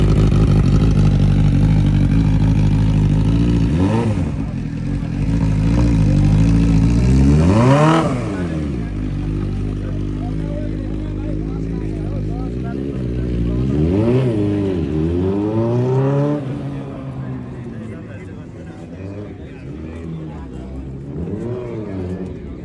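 Superbikes, including a CBR600RR, rev at a bikers' meet, rising and falling engine whines sweeping up several times, loud and close, with people talking over them.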